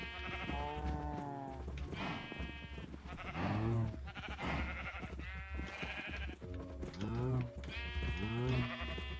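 Sheep bleating in the Minecraft video game, several repeated bleats in a steady series, clear and close, under a voice talking.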